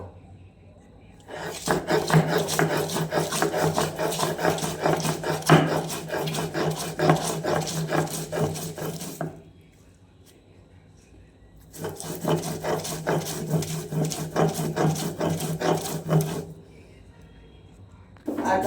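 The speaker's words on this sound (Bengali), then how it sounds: "ধনে পাতা চাটনিটা রেডি হয়ে গেছে, বেটে নিয়েছি।" Coriander leaf chutney is ground by hand in two long bouts of steady, rhythmic rasping. The grinding is close and fairly loud, with quiet pauses between the bouts and no voices.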